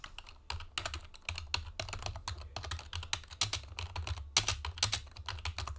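Keys clatter steadily on a computer keyboard as a channel name is typed, a close, brisk run of light taps with short pauses between bursts.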